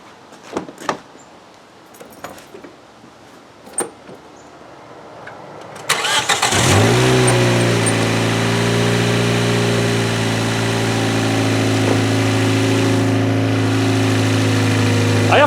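Quiet clicks and taps, then a car engine with an exhaust gasket fault cranks and catches around the midpoint, settling into a loud, steady idle that continues to the end.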